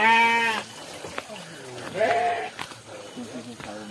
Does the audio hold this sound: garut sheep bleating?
yes